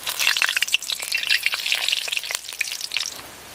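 Ginger, garlic and masala frying in hot oil for a pork curry, giving a loud, crackling, spitting sizzle with rapid pops throughout.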